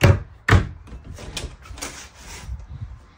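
A sliding shower door in a 2022 Passport 2401BH travel trailer rolls and knocks, giving two sharp thuds at the start followed by softer rattling slides and bumps at close range.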